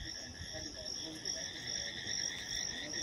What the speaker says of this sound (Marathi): हे आता बेडका ओरडायला झाली सुरुवात.